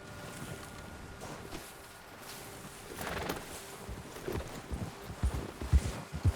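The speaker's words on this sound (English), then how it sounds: "Hey, get back on your horse." Horse hooves clip-clop as a rider travels in the video game Red Dead Redemption 2, soft irregular thuds over faint wind that grow firmer and more rhythmic toward the end.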